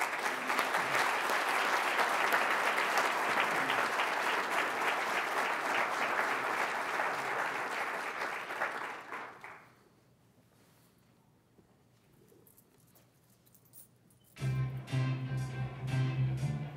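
Sustained audience applause welcomes a speaker to a lecture, loud and steady for about nine seconds before fading to near silence, then a low hum and room noise as someone begins to talk.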